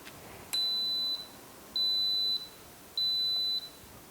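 Three evenly spaced high electronic beeps from an Instant Pot pressure cooker as its timer button is pressed, each about half a second long, clear over a faint background hiss.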